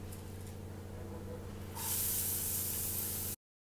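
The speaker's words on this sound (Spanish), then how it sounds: "El aceite ya está, entonces vamos a adicionar la cebolla." Chopped onion drops into hot oil in a pan, setting off a sudden, steady sizzling hiss that jumps in loudness over a quiet background hum and runs for over a second before cutting off.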